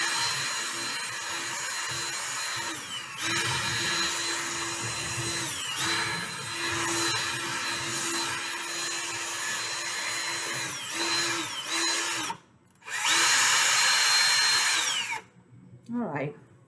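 A power drill whirs steadily while mixing silicone for a flower pot mold, its motor pitch dipping and recovering with the load, then briefly stopping and revving again near the end.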